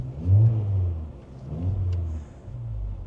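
A car revs and accelerates hard while racing alongside a lorry on the road, with its engine surging in two or three rising pulls, close and fairly loud, and no voices over it.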